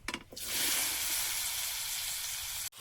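Vegetables tipped into hot oil after a dry red chilli tempering for a Bengali chorchori burst into a loud, steady sizzle close by, following a brief clatter, then cut off abruptly near the end.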